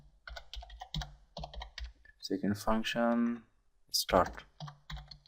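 Keyboard clicks come in quick bursts while code is typed, with someone talking over the keys at a moderate, close level.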